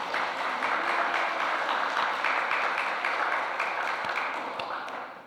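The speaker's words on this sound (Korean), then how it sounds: "하나님께 영광의 박수를 올려드리겠습니다" A church congregation applauds at an Easter Sunday service, the clapping moderately loud and continuous before tapering off toward the end.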